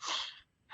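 A single sharp sneeze, quick and fairly close, followed by a brief pause and the start of another breathy burst.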